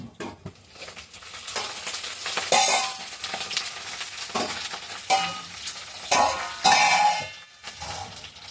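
Food is stirred in a cooking pot with a spoon, scraping and clinking against the metal in uneven bursts over a soft sizzle, close and fairly loud, no talking.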